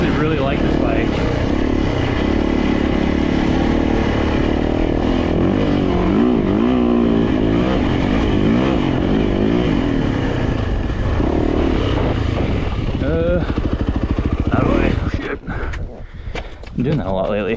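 A four-stroke dirt bike engine runs loud and close with a wavering drone and shifting pitch, overlaid by constant wind rush. A voice talks over it, and the engine noise drops away abruptly near the end.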